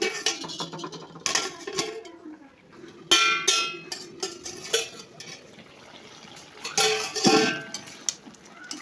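A home cook stirs food in a pot after adding water, a ladle scraping and clinking against the metal in bursts with pauses, close and moderately loud, no talking.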